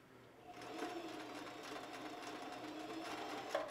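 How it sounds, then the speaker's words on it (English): A sewing machine stitching elastic into a ribbon skirt starts up and runs in a steady, fast mechanical whir, close and quiet, with no talking. "Make sure that you don't sew over your elastic."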